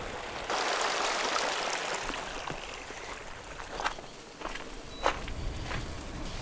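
Footsteps across small boards laid over hot spring water, soft irregular creaks and knocks near at hand over a steady background of flowing water, with no one speaking.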